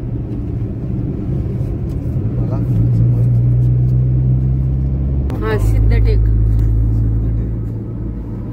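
A car on a road trip toward Siddhatek rolls along a road approaching a bridge, its steady, close engine rumble and road noise continuous throughout while someone talks over it.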